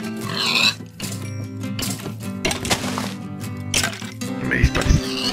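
Pigs oink and squeal while being killed in Minecraft, several loud grunts and squeals up close over game sounds and music, with a voice talking at times.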